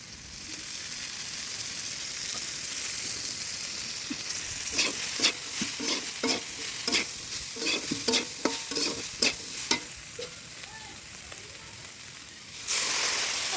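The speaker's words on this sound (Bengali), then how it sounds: "এবার এটাকে ভালো করে নাড়াচাড়া করবো অল্প একটু তেল দেবো" Yardlong beans fry in oil in a pan under a constant sizzle, then a spatula stirs them in a run of quick scraping strokes. The sizzle swells louder near the end.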